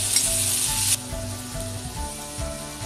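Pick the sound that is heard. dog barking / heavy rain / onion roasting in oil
onion roasting in oil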